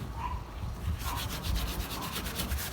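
Pad rubbing over oxidized paint on a 1970 Dodge truck with soapy water, a steady rasping scrub whose strokes become rhythmic and brighter partway through, close and continuous with no talking.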